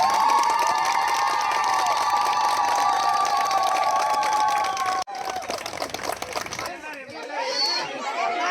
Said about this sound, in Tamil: விண்ணதிர குளவையிட்டும் மாலை அணிவித்தும் கிராம பெண்கள் ஆரவாரம்.